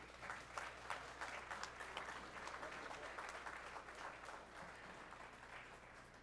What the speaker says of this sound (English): that applause was for Mika Immonen